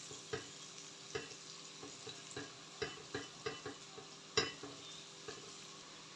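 Chopped onion and two garlic cloves frying in three spoonfuls of olive oil in a pan, a steady low sizzle broken by repeated sharp scrapes and clacks of a spoon stirring, close and fairly quiet, no talking.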